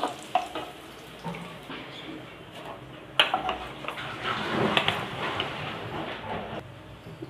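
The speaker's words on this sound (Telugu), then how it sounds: "డ్రై ఫ్రూట్స్ చక్కగా వేగిన తర్వాత పాన్ నుండి సపరేట్ చేసుకోవాలి." Dry fruits fry in ghee in a pan with a low crackling sizzle, broken by clinks and scraping stirs of a spoon, close and moderately loud, with a busier stretch in the middle.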